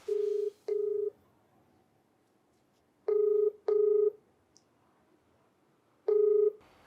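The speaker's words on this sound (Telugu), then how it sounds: "ఒకసారి కాల్ చేసి మాట్లాడదామండి" A phone number being dialed, heard as five steady DTMF keypad tones, each about half a second long, sounding in uneven pairs and singles with silent gaps between them. The tones are clear and close, with no voices.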